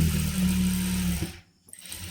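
A sewing machine runs a fast steady stitch along the side seam of a churidar pant for about a second, then stops abruptly and briefly starts again, close and loud.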